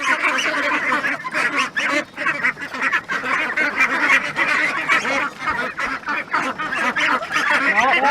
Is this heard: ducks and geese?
yes